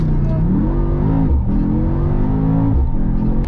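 Mercedes-AMG GT63S E-Performance launching hard, the engine note climbing steadily through gears with a brief dip around a shift, loud and close from inside the cabin, steady rumble underneath.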